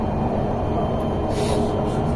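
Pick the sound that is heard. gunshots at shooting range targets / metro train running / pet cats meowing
metro train running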